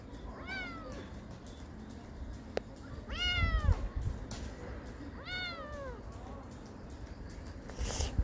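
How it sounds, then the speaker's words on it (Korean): A stray kitten on the street at night meows for its mother in three clear, rising-and-falling cries spaced a few seconds apart, close and fairly loud over a low background hum. "어미를 찾는 길고양이입니다."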